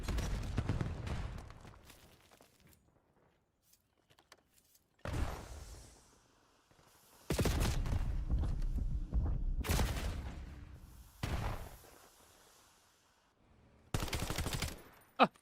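Bursts of automatic gunfire from a competitive video game match come in several loud, separate volleys split by quiet gaps, with rapid rattling shots in each burst and faint commentary voices in the background.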